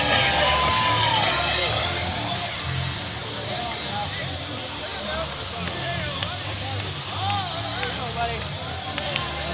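Wrestling fans at an IHW event yell, whoop and cheer in a loud, continuous crowd roar, with individual shouts rising above the hubbub.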